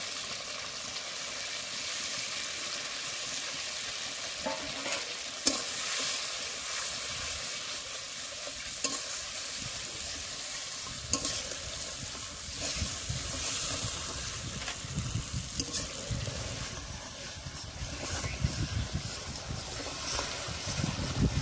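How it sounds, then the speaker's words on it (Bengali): Steady sizzle of ginger, chilli and tomato puree frying in a pan for soybean curry, a continuous close hiss with occasional sharper pops and spatters throughout. "আদা, লঙ্কা আর টমেটোর পিউরিটা ভালো করে ভেজে নিয়েছি"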